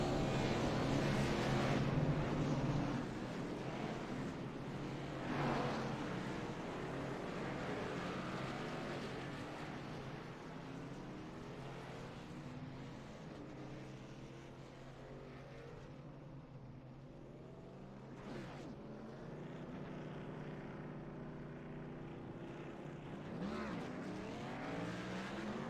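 Race cars rumble together in a video game pit party at ISM Raceway, a steady dense engine drone filling the whole stretch with occasional revving swells and no clear talk over it.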